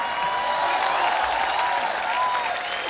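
A studio audience at a comedy show claps loudly and continuously, a dense even wash of applause throughout.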